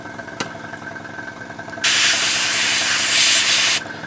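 Airbrush spraying paint onto a 1/35 scale Academy M10 Duckbill tank model, a steady close hiss lasting about two seconds over a low mechanical hum, with no talk.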